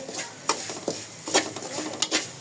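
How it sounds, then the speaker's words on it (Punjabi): Semolina dry-roasting in a pan on a griddle, with light scraping strokes of a spoon and soft rustling, a few sharper knocks against the pan, close and fairly quiet with no speech. "ਜਿਹੜਾ ਰਵਾ ਹੈ ਇਹਨੂੰ ਅੱਛੀ ਤਰ੍ਹਾਂ ਭੁੰਨ ਲੈਣੀ"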